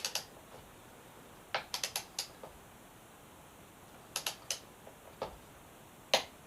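A torque wrench clicks while tightening a 36 mm nut on Yamaha R6 forks fitted to an FZ6R motorcycle, with small sharp metallic ticks in short clusters, close and crisp over a quiet background hum.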